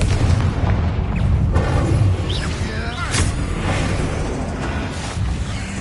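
Confringo blasting spell in Hogwarts Legacy, a loud booming explosion with a whooshing burst and rumbling tail, close and heavy over a dense game soundscape, with speech mixed in.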